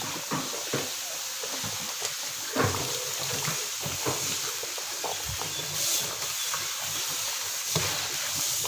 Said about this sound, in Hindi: ये हम तड़का लगा रहे हैं इसको